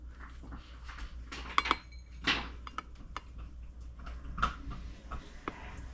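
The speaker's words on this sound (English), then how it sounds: "I am using a 1/2 cup scoop, so I want to add 3 of these to my bowl." Peanut butter powder scooped with a half-cup measuring scoop into a bowl, quiet scraping and soft taps with a few sharp clinks of the scoop against the bowl, close and fairly faint.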